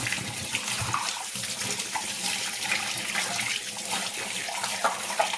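Tap water runs steadily while copper and brass vessels are scrubbed and rinsed, a continuous close splashing wash with no pauses.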